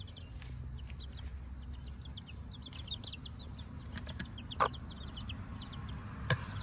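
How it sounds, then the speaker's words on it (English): Chickens cluck softly nearby, with short bursts of clucking over a low background hum and a couple of sharper knocks. "That's the chickens."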